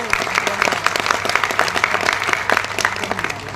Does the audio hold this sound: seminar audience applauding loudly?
yes